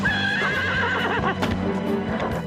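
A horse neighs in a long, wavering whinny near at hand, with hoof clatter and movement following.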